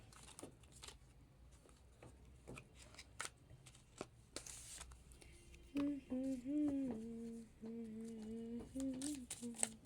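Tarot cards are shuffled in quick, crisp riffles and slaps close by, with soft tonal sounds and a voice-like hum rising over the later half.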